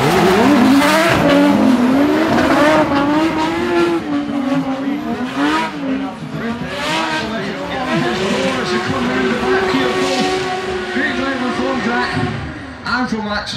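An E46 and an E92 drift car run tandem through a corner at a drift competition, engines roaring and revving loudly with tire squeal throughout, while a commentator talks over the action.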